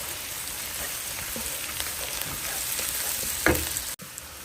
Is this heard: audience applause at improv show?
no